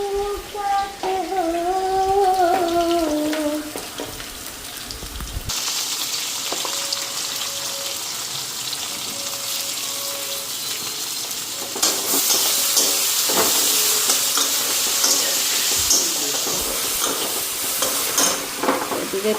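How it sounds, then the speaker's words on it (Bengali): Potatoes with onions added, frying in a pan in a home kitchen. A voice is heard briefly at the start, then a steady loud sizzle takes over with stirring scrapes, growing stronger and denser in the second half. "আলুটা একটু হালকা ভাজা হয়ে গেছে"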